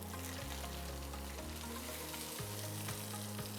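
Cherry tomatoes frying in a pan, a loud continuous sizzle with stirring and utensil clatter for a few seconds, no voices.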